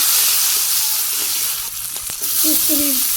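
Cumin, onion and green chili frying in oil make a steady broadband sizzle, broken by a couple of sharp clicks near the middle and a few brief tonal squeaks toward the end, fairly close and loud.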